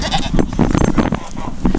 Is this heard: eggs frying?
no